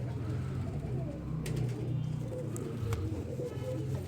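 A pigeon coos softly and repeatedly in a low throbbing rhythm, close by, under steady background noise with no talking.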